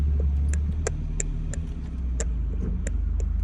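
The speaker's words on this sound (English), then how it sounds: "Let's allow this car to go by. Honda Odyssey, or I should say minivan." A Honda Odyssey minivan passes on Main Street in Houston's Montrose neighborhood, a steady low engine and road rumble under a repeating sharp clicking.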